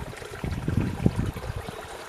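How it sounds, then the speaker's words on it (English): Water trickles and gurgles through a small garden stream in a permaculture water garden, a soft, close babble of bubbling pulses with no voices. "So you have this lovely sound of water."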